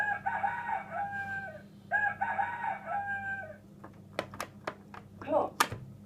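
A red toy rooster lets out two bright cock-a-doodle-doo crows in a row, close and clear, followed by a scatter of sharp clicks and knocks.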